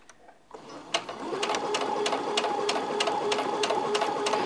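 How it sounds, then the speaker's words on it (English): Close by, a sewing machine starts up and stitches fabric in steady rapid rhythm, with evenly spaced needle clicks over a whirring motor hum as a seam is reverse-stitched at its start. "I'm just going to reverse stitch at the beginning so that that keeps that stitching in"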